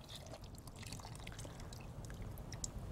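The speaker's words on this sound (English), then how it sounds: "And now we're going to add 5 cups of beef stock and 1 cup of water." Beef stock and water poured into a pot of macaroni noodles, a soft continuous liquid pour with light splashing and trickles, faint and without talk.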